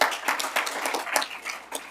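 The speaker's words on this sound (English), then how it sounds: "Give that man an applause" A short burst of clapping from a crowd at a university disaster resilience event, scattered handclaps rising and falling over a couple of seconds.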